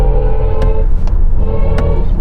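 BMW iX M60 electric SUV's synthetic drive sound composed by Hans Zimmer, a loud sustained layered hum with tonal drones, broken by a few brief clicks while driving.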